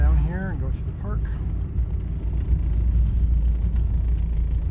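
An old Volkswagen Rabbit hums along with a steady low engine drone and road rumble from inside the cabin, slowing down, as someone speaks briefly over it.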